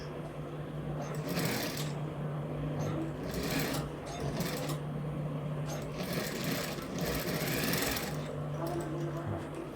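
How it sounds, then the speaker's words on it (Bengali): Sewing machine stitching a shirt collar band, running in steady buzzing bursts with brief pauses, fairly close and moderately loud. "এটা ব্যান্ডটাতে এভাবে একটা সেলাই দিয়ে আটকে নেওয়া হলো।"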